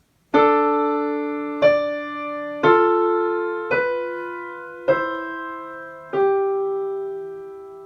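A slow second-species counterpoint melody of six sustained, bell-like tones, each struck note ringing and decaying, played alone at a steady, measured pace.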